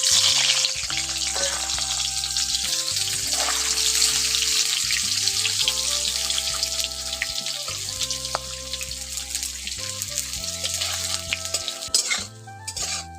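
Cubes of paneer fry in hot oil, giving a loud continuous sizzle with occasional stirring over steady background music.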